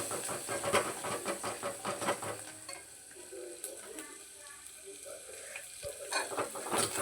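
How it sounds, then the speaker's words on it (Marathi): A spice tempering (phodni) with turmeric sizzles and fries in a pan while a spoon stirs it, giving steady hissing with repeated scraping strokes, close and moderately loud. "फोडणी अशी छान हलवू द्यायची"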